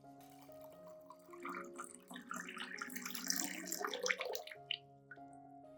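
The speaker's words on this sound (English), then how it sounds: "I add 500 milliliters of clean water at room temperature to dilute the solution." 500 milliliters of room-temperature water pours steadily into a rice and garlic solution for a couple of seconds over a faint steady hum, then stops with a few drips.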